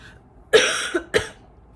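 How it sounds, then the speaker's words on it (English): Two short coughs from a cold, close to the mic, the first longer and harsher, the second brief, with no talking. "so I have a little bit of cough from my cold I've had"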